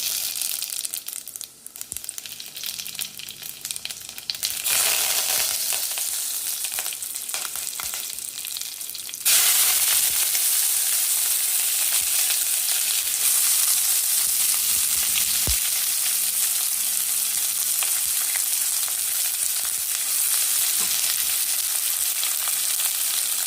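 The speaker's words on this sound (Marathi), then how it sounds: "कांद्याला चांगला 2 मिनिट परतू द्यायचं." Onions sauté in hot oil with a loud, continuous frying hiss that grows fuller and louder partway through and then stays steady to the end.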